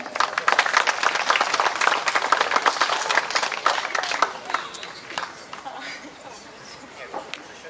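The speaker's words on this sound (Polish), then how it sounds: "Za gorące brawa." Audience applause at a diploma ceremony, dense clapping loud at first and thinning toward the end, with voices mixed in.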